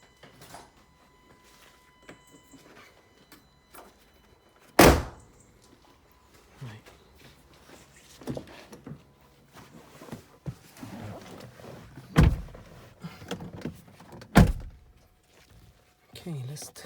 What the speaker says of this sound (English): and then we can obviously close the door